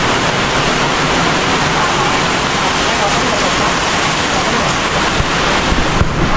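Heavy rain pours down at a farmhouse as a loud, continuous wash of noise with wind buffeting the microphone, steady throughout with no break.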